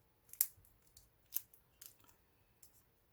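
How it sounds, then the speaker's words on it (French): Scissors snip the overhanging paper wrapped around a lollipop, stopping short of the twine: five or six quiet, crisp cuts in an uneven rhythm, close up, with no talk. "Je coupe le petit papier qui dépasse sans couper la twine."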